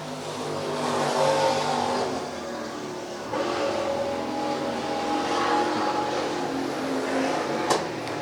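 IMCA stock cars roar down the back straightaway on a dirt oval, engines droning and revving from a distance, with the sound rising and falling as cars pass.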